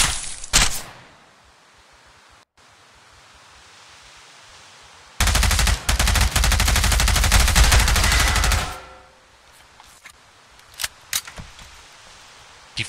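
Gunfire in the tactical shooter Ground Branch: a single loud shot up front, then a sustained close burst of rapid automatic fire lasting about three seconds, followed by scattered lighter shots, with no talking.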